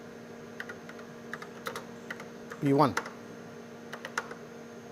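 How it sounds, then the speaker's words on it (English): Computer keyboard typing while entering commands for a PUMA robot running VAL-II: a sparse series of light, separate key clicks across the clip, with a brief louder swoop of voice or other sound in the middle. "we have entered exactly these commands in the monitor by using the keyboard"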